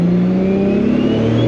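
A car engine fitted with a Precision 7675 dual ball bearing turbo revs loud and close, its note climbing steadily over about a second and a half with a rising turbo whine on top, no voices.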